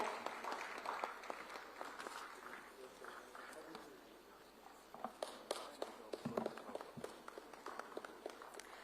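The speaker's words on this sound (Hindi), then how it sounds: "जोरदार तालियां श्री मुन्ना मास्टर जी के लिए" Audience applause breaks out at a launch event for a Rajasthan OTT platform, a dense wash of clapping that swells and rises again near the end, with a voice talking over it.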